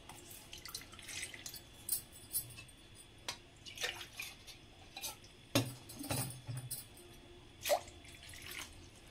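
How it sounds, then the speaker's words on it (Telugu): Water poured into a pot in a home kitchen while preparing a dry ginger herbal drink, heard as a series of separate splashes and drips with faint clinks of metal, no talk. "నీళ్ళు పోసుకుందాం ముందుగా."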